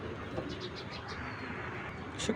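Soft pigeon coos at a pigeon farm, a short series of low murmuring calls repeating faintly in the background, with no speech.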